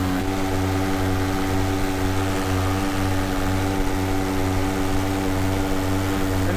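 Paramotor engine droning steadily in flight, a loud, close, continuous propeller buzz with strong harmonic tones and no talk over it.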